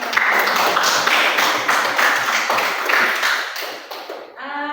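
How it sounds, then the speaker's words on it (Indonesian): Students in a classroom clap their hands together in a brisk, fairly loud burst that fades near the end, with a brief ringing tone as it stops. "Ya, tepuk tangan"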